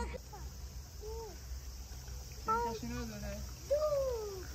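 A constant high cicada drone fills a summer garden with a carp pond in Japan, holding steady throughout while voices chatter over it nearby.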